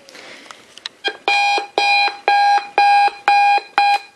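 Discovery Kids alarm clock going off: six loud, evenly spaced electronic beeps, each lasting about a third of a second, preceded by a few faint clicks.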